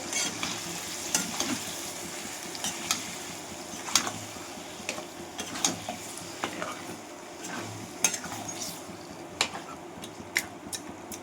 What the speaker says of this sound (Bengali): এবার মাংসগুলো দিয়ে দেবো। এবার আবার কষে নেব।